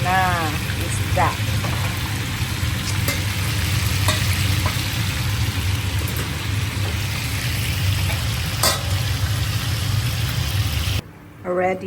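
Constant sizzling and crackling of fish frying in a hot pan, a dense hiss that runs steadily before cutting off near the end.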